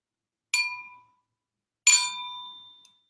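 A wine glass holding more water is tapped twice, about a second apart. Each strike gives a clear, ringing tone, and the second one rings a little longer.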